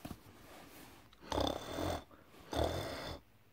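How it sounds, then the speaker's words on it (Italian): Two slow, rasping snores close by, each a long rattling inhale separated by quiet breathing, soft against a faint background hiss. "Senti come russa."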